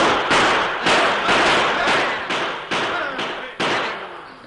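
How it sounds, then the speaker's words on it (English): A volley of gunfire rendered as a radio drama sound effect: about nine loud, sharp shots in rapid irregular succession, each ringing off with a short decay, with no voices over them. "It was met by a volley of gunfire."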